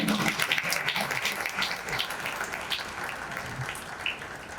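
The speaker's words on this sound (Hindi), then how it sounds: "हम सभी हमारी जोरदार तालियों के साथ इस बात का अभिनंदन करें" Audience applause at an awards ceremony, the Shri Shankar Shambhu Memorial Awards in India, rising as a dense, steady wash of many hands clapping that holds throughout without a break.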